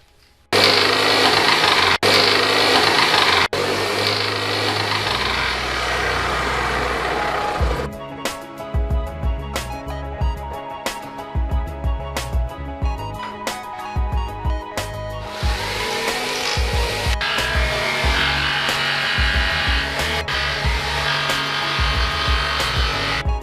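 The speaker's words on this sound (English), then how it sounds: "just a plain old jigsaw with a fine tooth metal blade will be enough to cut this out" A jigsaw fitted with a fine-tooth metal blade cuts out a splitter tunnel part, giving a loud, sustained buzzing saw whine that turns choppy and intermittent midway before steadying again.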